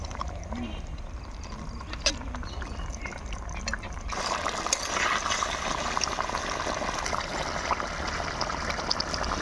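Curry gravy for boal fish and shola kochu boils steadily in a pot, a dense, bubbling wash that grows louder and fuller partway through and continues without pause.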